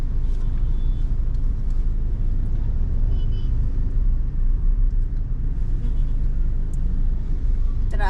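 Road traffic heard from inside a moving car: a continuous low rumble of engine and road noise with faint passing-vehicle sounds throughout.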